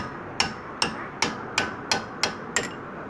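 A hammer strikes a front disc brake part on a Perodua Kenari car seven times at an even, steady pace. Each blow is a sharp metallic knock, fairly faint and alone.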